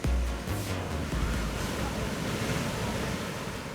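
Ocean waves break at an Australian surf beach in a continuous, loud, rumbling wash mixed with gusty wind noise, heard alone without talking.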